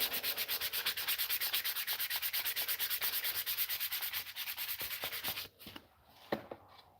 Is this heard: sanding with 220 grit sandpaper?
yes